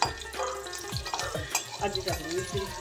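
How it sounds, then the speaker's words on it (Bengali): Green chilies stirred and fried in hot oil for a Kharkol leaf paste dish, giving a steady close sizzle broken by repeated scraping strokes of a spatula against the pan. "কাঁচা লঙ্কাগুলো দিয়ে একটু নেড়ে নিতে হবে, 30 সেকেন্ড মতো নেড়ে নিতে হবে।"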